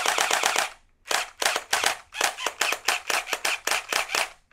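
An X5 gel blaster splat ball pistol with blowback fires in rapid bursts of sharp clacking shots, a quick string, a pause, then several more bursts, loud and close with no talking.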